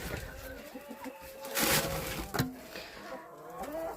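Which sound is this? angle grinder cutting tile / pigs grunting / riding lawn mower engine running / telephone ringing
pigs grunting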